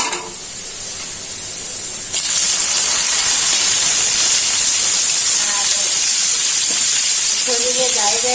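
Sliced bitter gourd hits hot oil with fried onions, setting off a sudden loud, sustained hiss and sizzle that swells and holds close up, with brief quiet talk near the end.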